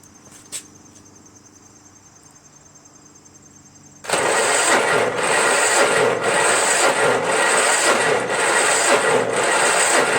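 Powermore by Zhongshen 420cc engine on a Craftsman lawn tractor with a scored piston and cylinder wall, cranking during a compression test: after a quiet hum, a loud, close, rapid rhythmic churning starts and runs steadily without catching.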